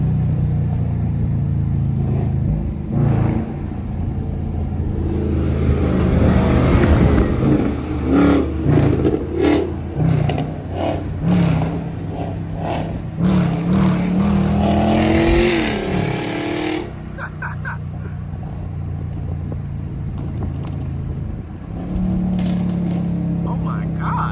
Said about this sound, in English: Car sounds good, man.